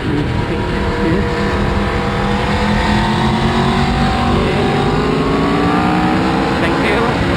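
An Aprilia Tuono 1100 V4 motorcycle accelerates hard on a hill climb road, its engine a loud, continuous, rising roar blended with heavy wind rush, close up throughout.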